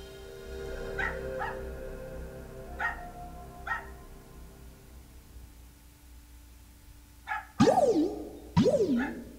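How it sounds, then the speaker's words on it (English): A dog barking outdoors: a few faint, distant barks spaced apart, then two louder, higher yelping barks with rising and falling pitch near the end, over quiet background hiss. "Stupid dog outside."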